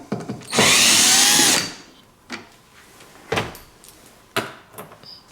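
A power drill backs out Phillips head screws from the open hatch of a Hyundai Santa Fe, one loud sustained high whir lasting about a second, followed by softer clicks and handling knocks.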